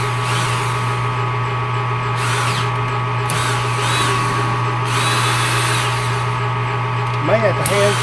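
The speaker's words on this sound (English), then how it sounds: "this drill is a little bit faster than my other one." A cordless drill whirs steadily at close range for several seconds, its motor pitch wavering slightly, with a couple of brief higher whines near the end, while making a spade drill holder.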